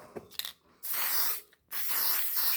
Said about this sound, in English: Spray paint that motherfucker.